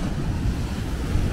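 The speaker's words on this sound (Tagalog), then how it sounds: "Grabe yung alon, no?" Strong sea surf at a beach resort in Pagudpud, Ilocos Norte, rolls in as a continuous low roar with heavy wind buffeting the microphone, steady and close throughout with no talk.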